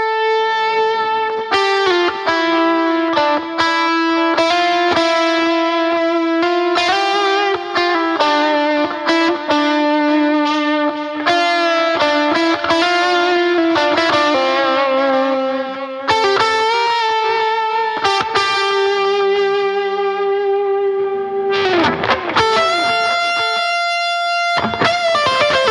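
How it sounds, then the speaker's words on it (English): Electric guitar played through a ToneX rig with heavy delay and reverb, sustained melodic notes and chords repeating and trailing off in a washy, set-back space, loud and continuous with no talking. "The delay is quite heavy there."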